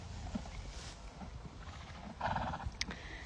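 Horses being rescued from slaughter move about in a group, with a steady shuffle and scattered snorts plus a brief louder whinny-like call near the end, moderately close and without talk.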